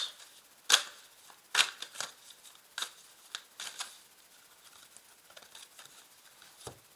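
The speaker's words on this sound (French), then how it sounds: "je vais rajouter une carte dessus" Tarot cards being handled and laid down during a reading, soft scattered shuffling, sliding and tapping sounds in irregular bursts, a few sharper snaps standing out against near silence.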